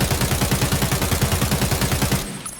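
Rapid full-auto bursts from an AK rifle in a video game, dense evenly spaced shots hammering loud and close for about two seconds before cutting off abruptly, leaving only a faint tail.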